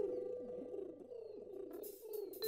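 Cartoon doves coo and warble in a magic show, several soft bird calls overlapping against a steady musical background, ending with a brighter burst.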